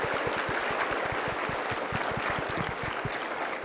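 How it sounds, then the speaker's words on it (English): Conference audience at an opening general session applauding, a dense, steady wash of many hands clapping throughout without a pause. "If we can applaud those pediatric rheumatologists."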